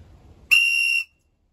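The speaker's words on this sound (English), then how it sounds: "They say it's the world's loudest whistle. We'll give it a test. We'll give it a blow right now, just for Curtis." A single sharp, piercing blast of the Storm whistle, billed as the world's loudest, blown indoors: one very loud, steady shrill tone lasting about half a second after a quiet lead-in, then abrupt silence.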